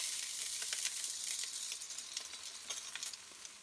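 Limpets cooking on a grill in a muslin with water and oil, a steady close hiss of sizzling with faint bubbling pops, Canarian style, no talk.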